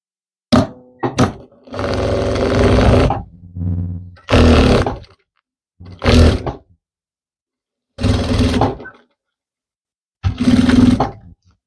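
A sewing machine stitches along a dress lining toward the facing seam, running in short repeated bursts of motor whir separated by silent pauses.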